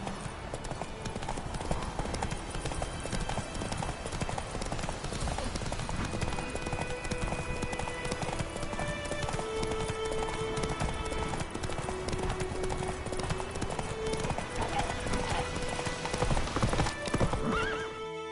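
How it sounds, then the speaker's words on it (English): A horse's hooves clip-clop steadily in Witcher 3, a continuous trotting rhythm mixed with a whinny, over a dense game soundtrack and ambience. "Whoa there, Roach."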